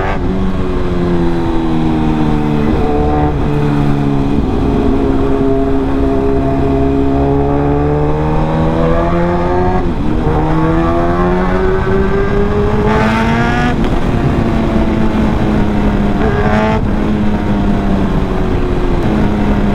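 A powerful superbike engine roars loud and close, its pitch climbing and falling through repeated revs over about twenty seconds of continuous engine noise.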